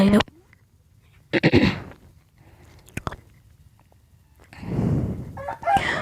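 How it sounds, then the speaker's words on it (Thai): A few short Minecraft chicken clucks and squawks in bursts separated by quiet gaps, with brief chewing-like clicks between them. "บางท่านก็จะได้ยินเสียงไก่"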